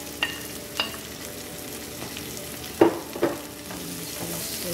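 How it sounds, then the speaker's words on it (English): Garlic, ginger, thyme, carrots and green onion stirred in a pan for Jamaican brown stew fish, giving a low steady sizzle with a few sharp utensil scrapes and clicks spaced across it, close by, with no talking. "I'm just going to stir it through that."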